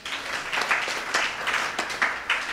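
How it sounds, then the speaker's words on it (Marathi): Audience applause at a Krishna Janmashtami and Sant Dnyaneshwar festival, dense steady clapping rising and falling in several swells across the clip, fairly close and without speech. "जोरदार टाळ्या वाजवा।"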